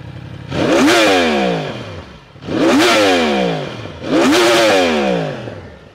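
A four-cylinder motorcycle engine, likely restricted by catalytic converters, revs hard three times up toward 14,000 rpm, each loud close howl climbing in pitch then dropping back to a rumbling idle.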